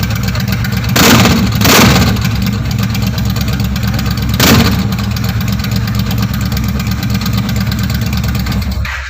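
A 2014 Yamaha Stryker 1300cc motorcycle, registered in Lahore, idles with a steady low exhaust rumble, swelling in a few short throttle blips near the start and again midway, loud and close with no talk.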